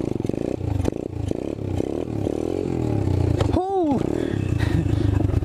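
Apollo 125cc dirt bike revving hard, engine rising and falling in pitch with a sharp upward sweep as it lifts into a wheelie, loud and close, with some clattering.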